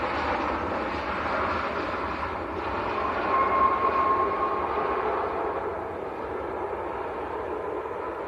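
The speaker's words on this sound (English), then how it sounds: "Boeing 738 from Antalya" Boeing 737-800 airliner arriving from Antalya at Manchester Airport, a steady broadband jet roar with a faint whine, moderately distant and sustained throughout, swelling slightly mid-way.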